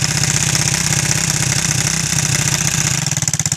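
A Honda 200X three-wheeler engine running while ridden, loud and close, with a rapid, even putter that keeps going throughout and begins to pulse unevenly at the very end.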